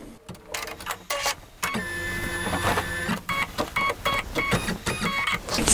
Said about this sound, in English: when I hit start, it's going to finish up this part of the design